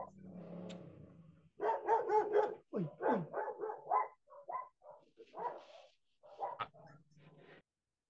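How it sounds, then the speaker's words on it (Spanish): Dogs bark out in a street in a series of sharp, close barks and yelps coming in bursts with short pauses, loud against an otherwise quiet background. "Hermano José, lo están correteando los perros, creo"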